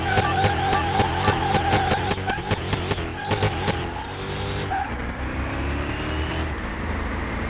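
Two Camaros race with engines revving in rapid throttle bursts, close and loud, then their tires squeal in long skidding sweeps as the revving gives way to a sustained engine roar.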